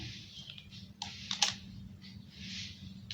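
Typing on a computer keyboard while writing Python code: a few soft clicks and keystroke taps, close and fairly quiet, with a sharper burst of clicks midway and no talk.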